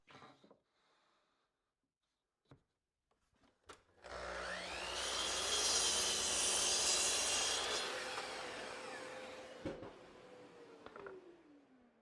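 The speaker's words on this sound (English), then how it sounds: "now all I need to do is cut these to length" A power saw rips through scrap 3/4 inch plywood in a small woodshop, a loud steady whine that rises, holds for several seconds while cutting, then winds down, preceded by a few light knocks.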